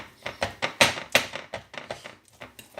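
A banana is mashed in a bowl for protein crepe batter, giving repeated sharp tapping and squishing strokes in a steady, fairly quick rhythm, close and distinct.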